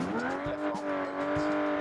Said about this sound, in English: The engine sounds great, it's tuned really well.